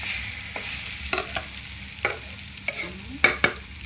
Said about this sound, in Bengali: এবারে নাড়ানাড়ি করে অল্প একটু নাড়ানাড়ি করে